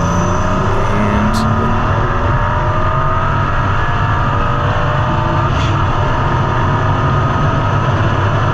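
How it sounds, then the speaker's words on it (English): A 2008 BMW 135 race car on its flying lap crosses the finish line at a track battle, its engine roaring loud and steady throughout, with a low rumble and a sustained high whine and voices faintly under the noise. "BMW 135. That is the flying lap car."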